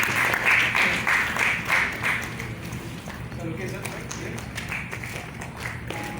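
Audience at a neuroscience company launch applauding to welcome a psychiatrist speaker, sustained clapping throughout with a brighter, denser burst at the start and a few individual claps standing out later.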